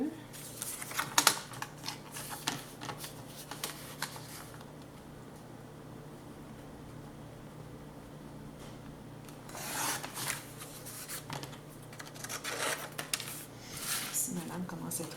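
A worn craft blade scrapes and cuts through scrapbooking paper in quick rasping strokes, clustered at the start and again near the end, close and soft, with a voice talking faintly in the background.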